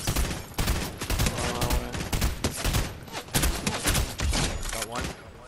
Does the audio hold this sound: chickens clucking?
no